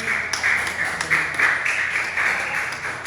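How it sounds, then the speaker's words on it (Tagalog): Congregation applause at a church worship service, a steady wash of many hands clapping with scattered sharper claps, fairly loud and continuous throughout. "Bigyan natin ng malakas na palakpak ang Panginoon"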